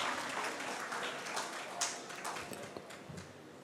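An audience at a poetry reading applauds a poet being welcomed to the stage. The clapping is moderate and fairly distant, with a few sharper individual claps standing out before it thins.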